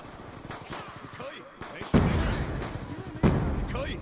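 Black Ops 2 gunfire erupts in bursts of sharp shots and rattling automatic fire, with loud hits near the middle and end, mixed under players talking over game chat.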